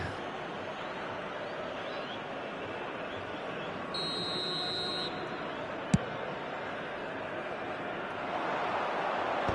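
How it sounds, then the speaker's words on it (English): A referee's whistle blows, presumably for offside, in a football video game, a steady high-pitched tone lasting about a second over continuous crowd roar. "And the whistle's gone, presumably for offside."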